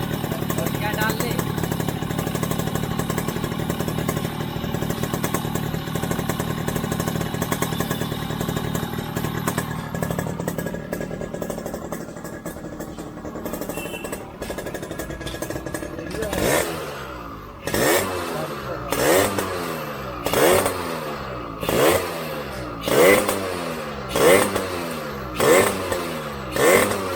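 A Yamaha RX100 two-stroke motorcycle idles unevenly after an engine rebuild, then its exhaust is blipped in a series of sharp, rhythmic revs, loud and close.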